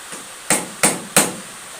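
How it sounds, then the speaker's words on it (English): Three sharp metallic taps of a chisel struck against a Ford 3000 tractor's transmission, evenly spaced about a third of a second apart, close and fairly loud with no talking. "I've got a chisel. I'll just try and get it, just give it a bit of a tap."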